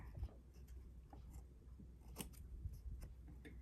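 A small craft tool cuts paper in a series of soft snips and crisp clicks spread over a few seconds, close but faint against a quiet room.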